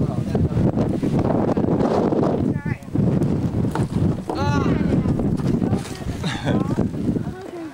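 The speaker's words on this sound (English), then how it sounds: "It's quite windy up here" Strong wind buffets the microphone in a loud, continuous roar on the Great Wall at Huanghuacheng near Beijing, with people talking underneath.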